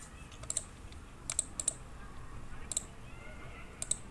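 Sparse, quiet clicks and taps on a computer keyboard and mouse, a few isolated keystrokes spread irregularly over several seconds against faint room hiss.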